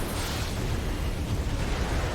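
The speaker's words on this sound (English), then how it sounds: "I project my cannons to help burst down the train" StarCraft II cannons firing at a train: a dense, continuous rumble of blasts and bursts, loud and close, with no talking over it.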